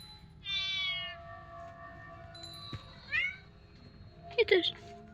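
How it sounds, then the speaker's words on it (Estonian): A cat in a horror video game meows several times, with a long drawn meow followed by shorter, sharper calls, clear and close against a quiet low hum. "Saatuslik kass."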